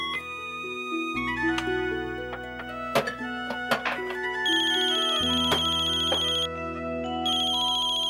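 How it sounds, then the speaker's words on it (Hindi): A melodic electronic phone ringtone plays, cycling through a bright repeating tune of synthetic tones, clear and fairly loud with no voices. "राजश्री बहन का फोन है भाभी माँ।"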